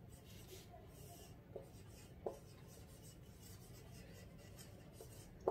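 A teacher writes sentences on a classroom board, producing faint, soft scratching and rubbing strokes with a few light taps against a quiet room background.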